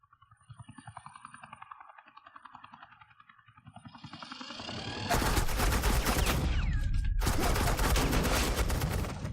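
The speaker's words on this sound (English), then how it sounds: "Suppressing fire." Heavy sustained gunfire from Batman: The Enemy Within, the Telltale Series game: after a low rumbling build-up, dense rapid automatic bursts fill the mix loudly, broken by one short pause before resuming.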